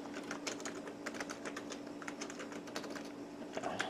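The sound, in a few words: typing on a Compaq Presario 2200 laptop keyboard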